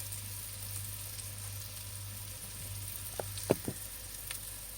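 Butter frying in a moderately hot pan gives a faint, steady sizzle under a low background hum, with a couple of brief, sharper knocks near the end.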